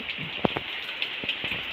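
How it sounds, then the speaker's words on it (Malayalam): Rain pours down outdoors near a sunshade, potted plants and a coconut palm, a dense steady hiss with scattered close drips and splats landing on a surface. "ഇനിയും അവിടെയൊക്കെ മഴ പെയ്യുന്നു"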